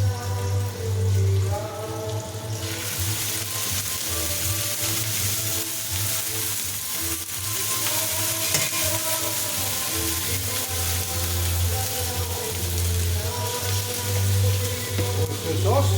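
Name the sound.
pork ribs stir-frying and sizzling in a pan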